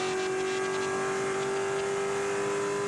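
A Spec Corvette race car at Daytona International Speedway gives a steady, sustained engine drone with a strong fixed tone, held at constant loudness throughout without any break.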